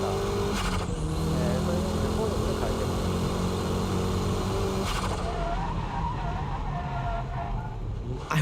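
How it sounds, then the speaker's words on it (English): A car performs a braking drift on a wet race track, its engine droning steadily with tire hiss and skid noise throughout, and the engine note drops near the end. "Braking drift is controlled by the braking power, your braking touch."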